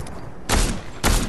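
Fortnite gunfire, two sharp, loud bursts of shots about half a second apart over a steady background of game noise.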